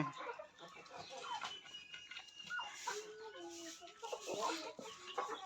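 A native rooster, black mixed-colour and around two and a half kilos, clucks faintly amid other farmyard chickens, with a voice speaking now and then over a busy rural background.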